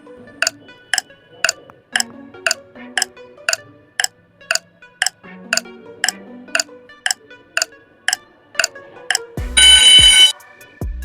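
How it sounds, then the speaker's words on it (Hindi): A ten-second quiz countdown timer ticks with sharp, evenly spaced electronic clicks over a faint tonal background, ending in a loud buzzing alarm burst. "इसके लिए आपको 10 सेकंड का टाइमर भी मिलेगा"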